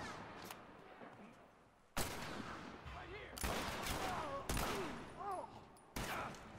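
Enemy gunfire in The Last of Us game comes in several sharp bursts of shots, each a loud crack followed by a ringing decay, while a voice talks faintly between them.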